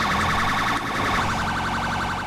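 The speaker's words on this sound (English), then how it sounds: "to let people know we're coming we need to change the siren" A British police car siren in the video game GTA V wails loudly and continuously, its pitch sweeping up and down in a fast, steady warble with no voices.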